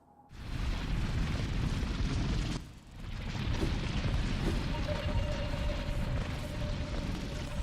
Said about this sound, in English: Sounds like that would be a bunch of tunneling enemies that we have to avoid.